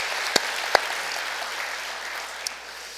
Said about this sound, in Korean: 우리 매주 수고하시는 찬양대원들에게 한번 감사 박수 저희가 전하도록 하겠습니다.